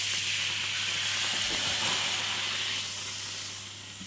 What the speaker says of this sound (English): So a little red wine. Deglaze the pan, get all the sticky caramelized juices off.